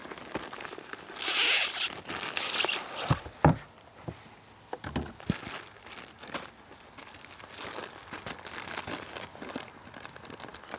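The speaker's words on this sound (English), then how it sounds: "It comes in a Ziploc bag" A Ziploc bag holding a Winnerwell carbon fiber and aluminum foil fireproof mat is handled up close, giving loud plastic crinkles, rustles and scrapes in irregular bursts with short pauses between them.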